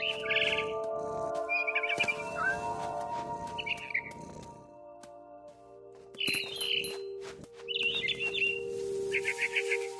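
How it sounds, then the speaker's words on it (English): A barn swallow chirps in a video game, with short bursts of high twittering calls repeating at intervals over a steady electronic hum and faint background tones. "Then I heard chirping outside my window. It was a barn swallow going back to her nest."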